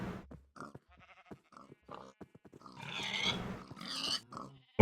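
Minecraft pigs from a mob spawner in the Agrarian Skies modpack, grunting and squealing in short bursts, sparse at first and then a denser, louder cluster of overlapping animal calls.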